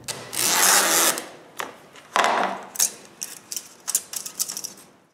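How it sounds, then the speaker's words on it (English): Screen mesh being cut around a vermin trap on a patio screen door, heard as a long raspy cutting stroke followed by a run of short, sharp snips and clicks, close and alone. "The last thing to do for the vermin trap is to cut the screen around it."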